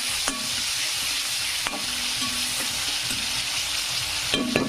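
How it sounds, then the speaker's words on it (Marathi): Chopped tomatoes fry in a pan for a cabbage dish, a steady loud sizzle broken by a few sharp scrapes and knocks of a spoon stirring against the metal. "छानपैकी असं टमाटर टाकून घ्यायचं आणि मस्तपैकी असं तळून घ्यायचं।"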